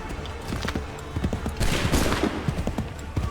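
A musket volley fires in Assassin's Creed 3, heard as a dense crackle of many overlapping shots, with a louder burst midway and scattered pops continuing under general battle noise.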